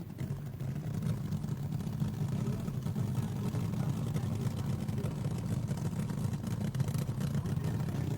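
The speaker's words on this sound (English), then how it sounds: "Listen to that Ram Charger's motor." Ram Charger drag racing car motor rumbles continuously at a 1971 NHRA Winternationals drag strip, a dense low throbbing roar held steady at moderate distance, with crowd and ambient noise blended in.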